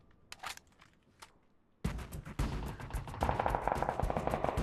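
Gunfire in the PUBG battle royale game on the snowy Vikendi map: a few scattered distant shots, then loud rapid bursts of automatic fire close by, continuing in dense volleys to the end.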